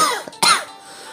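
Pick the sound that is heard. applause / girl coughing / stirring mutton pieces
girl coughing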